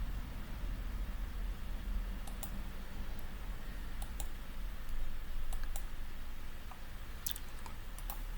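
Scattered sharp computer mouse clicks, a few single and double taps, sounding close and crisp over a steady hiss of background noise with no talking.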